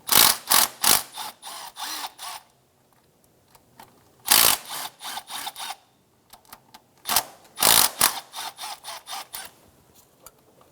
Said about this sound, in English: Remove the 10mm bolts for the VVT solenoid